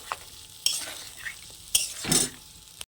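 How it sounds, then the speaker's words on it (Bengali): Egg curry for egg biryani being stir-fried in a pan: sharp scraping stirs over a soft sizzle, several loud strokes spaced irregularly across a few seconds, close and clear with no talking. "দিয়ে ভালো করে একটু কষে নেব।"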